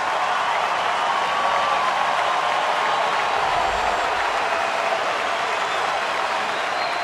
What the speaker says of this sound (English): Big cheer for the Bulldog, Alex Wood.